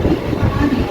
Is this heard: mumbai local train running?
yes